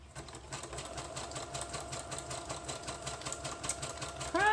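A sewing machine running steadily as it stitches two fabric edges for a handmade wallet, a close, continuous rapid mechanical whir and clatter that ends in a louder jolt as the machine stops.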